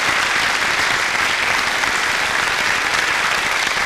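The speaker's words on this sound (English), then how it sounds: "Considerable applause here in mission control." Sustained, loud applause fills Ariane launch mission control after the SPOT 4 satellite payload separates, many people clapping densely and continuously with no talk audible.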